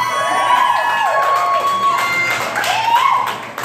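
An audience at a playful best-butt contest claps and cheers to vote, a dense, continuous crowd roar with scattered shouts and whoops, loud and sustained before easing slightly at the end.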